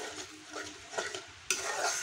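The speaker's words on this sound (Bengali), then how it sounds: "মাংসটা আমি আর একটু পানি দিয়ে কষিয়ে নেবো আলু সহ" Meat and potatoes being stirred and braised with a little water in a pan over a wood fire, giving a soft continuous sizzle with scraping stir strokes, and a sharper burst of sizzling partway through.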